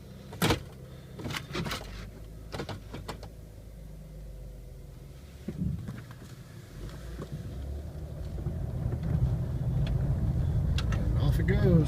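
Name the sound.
2001 Chevrolet Impala driving off and shifting gears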